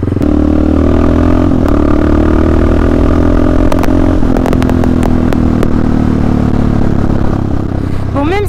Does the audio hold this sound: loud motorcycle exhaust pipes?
yes